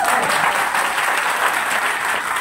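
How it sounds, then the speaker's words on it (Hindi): Dense, steady applause fills the room as a seminar audience claps for a woman after her coin toss, a continuous wash of many hands at constant loudness with no talking over it. "एक बार मैडम के लिए ताली हो जाए।"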